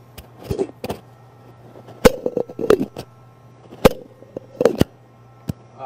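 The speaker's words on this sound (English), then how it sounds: "this is the sound of a shaker opening." A cocktail shaker is worked open, giving a run of sharp metallic clicks and taps with short rattling bursts in between, close and fairly loud, with no talk.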